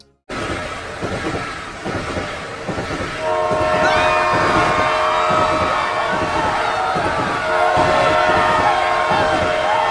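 A train in the game Planet Coaster 2 rumbles along steadily with rhythmic wheel clatter, joined partway through by a sustained horn-like tone; a synthetic, game-like sound, continuous and fairly loud.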